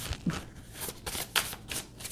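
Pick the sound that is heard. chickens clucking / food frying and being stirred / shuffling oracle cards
shuffling oracle cards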